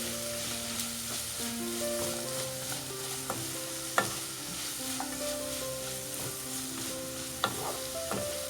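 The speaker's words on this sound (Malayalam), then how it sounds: "ഇതെല്ലാം കൂടി നന്നായിട്ടൊന്ന് വഴറ്റിയെടുക്കാം." Sliced onions and small green chillies fry in a pan for mutton roast, a continuous close sizzle broken by repeated light clinks and scrapes of stirring, with no talk.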